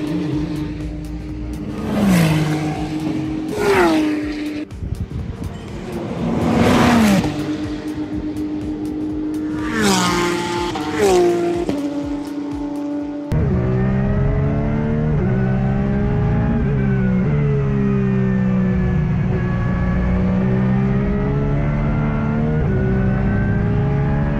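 Race cars on a track in Australia, engines whining and rising in pitch as they sweep past several times, then settling into a loud, steady, close engine drone.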